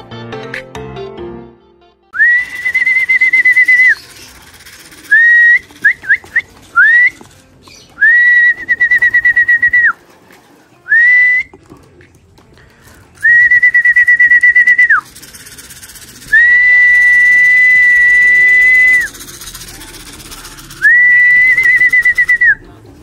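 Racing pigeons returning to their loft call in a run of loud, clear whistle-like coos, each a few seconds long, separated by short pauses and coming one after another over a quiet outdoor background.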